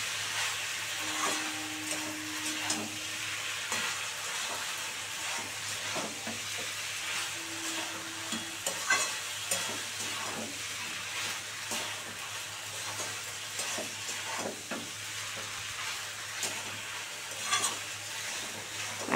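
Chow mein with a little soy sauce being stirred in a hot pan, a steady sizzle carrying frequent scrapes and clinks of a utensil through the whole span, close and with no speech.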